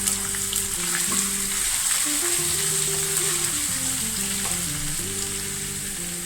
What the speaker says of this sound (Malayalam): നന്നായിട്ടൊന്ന് മൂക്കുന്നതാണ് വരെ ഇളക്കി കൊടുക്കാം